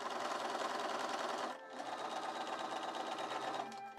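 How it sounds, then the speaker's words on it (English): A home sewing machine runs steadily, stitching long gathering stitches through fabric, with a brief pause partway through before the motor hums on at an even pace, close and alone. "sewed long gathering stitches along those lines using my sewing machine"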